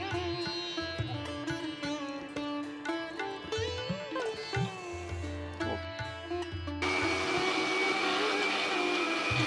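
Mixer grinder whirring as it grinds coconut with cardamom, a steady close motor drone with shifting pitch and rattling, rising to a harsher, louder whine near the end.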